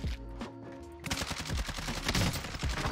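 Rapid automatic gunfire rattles in Call of Duty: Warzone, a dense, loud burst of shots that starts abruptly after a brief quieter moment and continues to the end.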